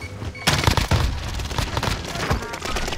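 A thrown frag grenade explodes in a first-person shooter video game, part of a loud burst of booms and rapid gunfire that carries on densely across the whole moment of the firefight.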